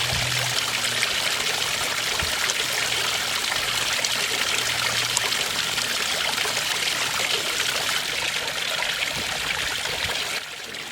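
Water from a 400-gallon-per-hour pond pump trickles and splashes into a garden pond in a continuous, even stream, loud and close for the whole stretch with no voices over it.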